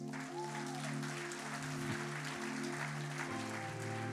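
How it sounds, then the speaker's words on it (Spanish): Church audience applauding as a soft, steady wash of clapping sits beneath sustained organ or keyboard chords that hold throughout. "Dese un fuerte aplauso a usted mismo."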